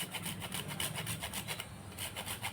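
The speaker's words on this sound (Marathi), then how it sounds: "आता मी थोडंसं जायफळ किसून घालणार आहे" Whole nutmeg grated by hand for a traditional sweet potato and jaggery dough, a steady close scraping with rapid repeated strokes continuing without pause.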